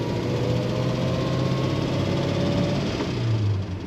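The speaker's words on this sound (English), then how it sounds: "Very smooth, very quiet exhaust note on this limousine." A 1935 Pierce-Arrow Model 845 enclosed-driver limousine idling with a smooth, quiet exhaust, a steady low hum running evenly throughout without any voices.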